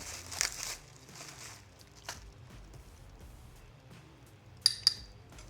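Plastic bubble-wrap packaging for motorcycle brake and shift parts crinkles faintly at first, then two sharp close rips tear it open near the end, with no talking.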